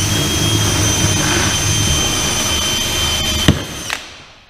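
A power drill grinding through bolt holes for a cross deck top-mount on a personal watercraft or dinghy, a steady loud whine that ends with a couple of sharp clunks as it winds down.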